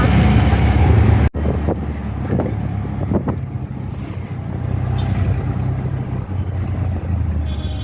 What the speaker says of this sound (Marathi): आम्ही आता ऑटोमध्ये बसलेले आहोत